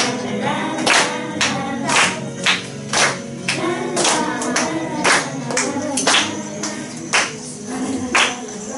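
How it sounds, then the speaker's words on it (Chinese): Rhythmic clapping at a school Children's Day celebration, steady beats roughly once a second over a musical backdrop, moderately loud and fairly close. "掌声鼓励"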